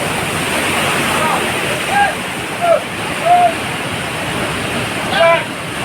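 Steady rushing surf of storm waves breaking close by on the shore at Sablayan, Occidental Mindoro, a continuous roar with brief whistling calls poking through now and then.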